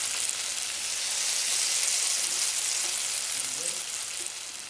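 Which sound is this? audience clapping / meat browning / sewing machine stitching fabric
meat browning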